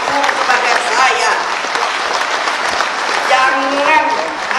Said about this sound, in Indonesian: Tepuk tangan yang besar